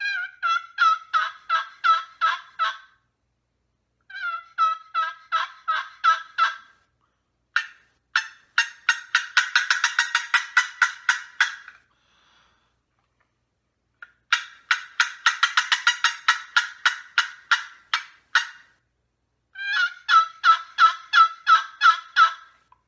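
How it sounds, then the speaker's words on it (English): Turkey box call worked by hand in a routine of soft yelps, clucks and cutting, played in rhythmic bursts of sharp raspy notes with short pauses between, loud and close with no one talking. "on a box call, it sounds a little bit like this. And I'll start off with some soft yelps"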